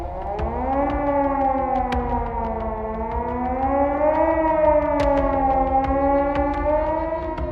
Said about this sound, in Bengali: মুহূর্তেই ইউরোপ জুড়ে বেজে উঠল সতর্ক সাইরেন